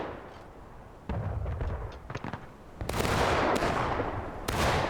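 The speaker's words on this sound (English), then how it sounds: "the Union guns that Jam and Kevin have here is probably loaded and ready to shoot" Union cannon fire in a Civil War video game, with several loud, sharp blasts and crackling gunfire bursts following one another, near and harsh, with no talk.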